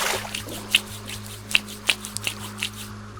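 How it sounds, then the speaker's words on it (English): Washing hands at a water source in the video game DayZ brings soft splashes and wet drips with a few sharper droplet plinks in an irregular rhythm, close and fairly quiet over a steady low hum. "washing hands in water sources"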